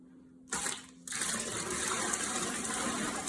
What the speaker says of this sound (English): Now we're gonna top it off with more hot water.